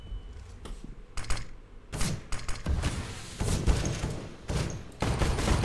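Rapid bursts of gunfire in the video game CS:GO, several sharp volleys and thuds coming in irregular clusters, loud and close with brief gaps between them.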